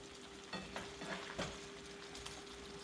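Shrimp sizzling in butter in a pan, partly covered by the butter, give a steady close crackle with occasional louder pops and stirring clatter, with no talking.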